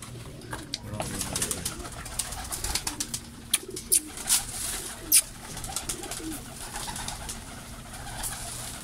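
Golden teddy pigeons with red beaks coo repeatedly inside a roomy cage, soft throaty calls rising over a low background hum, with sharp clicks and flutters scattered between them.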